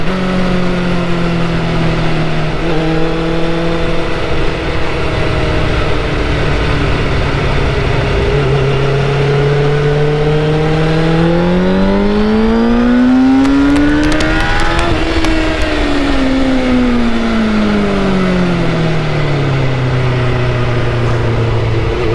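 A superbike nicknamed Hulk howls under hard acceleration at very high speed, its loud engine note climbing through the gears with rising and falling pitch sweeps, close and continuous over rushing wind noise, no talking.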